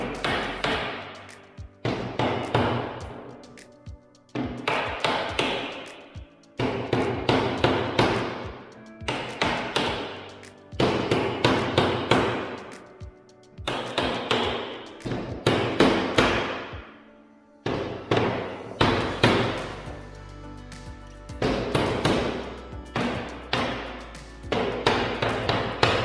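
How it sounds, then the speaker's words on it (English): A rubber mallet taps wooden trim into place on a sash window, with repeated rapid dull knocks in about ten bursts, close and fairly loud with brief pauses between. "got the old rubber mallet and we'll give it a tap."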